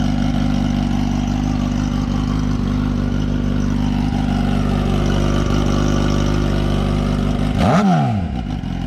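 A Suzuki GSXR 750 motorcycle with the silencer fitted idles loudly and steadily up close, a throbbing engine note that ends with a brief quick rev near the end.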